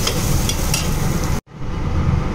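Ginger, garlic and green chilli paste frying in a pan, a dense continuous sizzle with scraping stirs, briefly cut off by a short gap before sizzling resumes.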